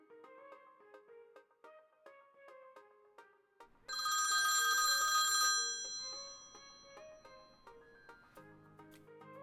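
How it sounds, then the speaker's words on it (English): A telephone rings for about two seconds, a bright trilling bell rising clearly over a quiet background of plucked musical notes that continue before and after. "We were reading when the phone rang."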